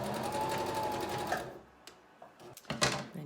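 Sewing machine top stitching the edges of a skirt pocket, a rapid close mechanical whirring run of about a second and a half, then stopping, followed by a few soft clicks and handling sounds.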